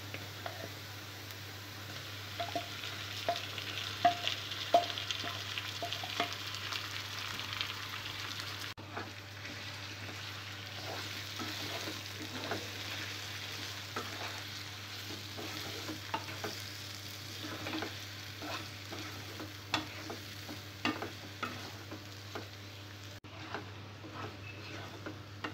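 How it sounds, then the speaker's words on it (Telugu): Marinated prawns fry with browned onions in a pan, producing a quiet, continuous sizzle with frequent light clicks and scrapes from stirring over a steady low hum. "ఉల్లిపాయ ముక్కలు బాగా ఫ్రై అయిన తర్వాత ముందుగా మ్యారినేట్ చేసి పెట్టుకున్న రొయ్యలు వేసుకోవాలి"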